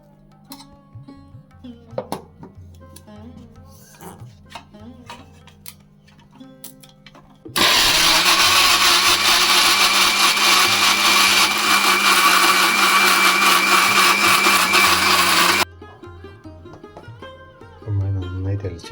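Ripe bananas are ground in a kitchen blender for banana halwa: quiet handling clatter, then about eight seconds of loud, steady whirring grinding that stops abruptly, followed by softer clinks.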